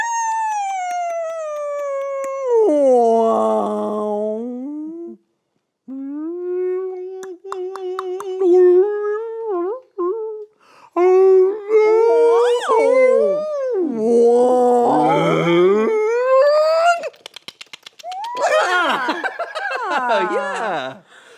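A voice imitates whale calls in a long series of wavering, gliding moans and squeals with short breaks, loud and close, as a cetologist would demonstrate them.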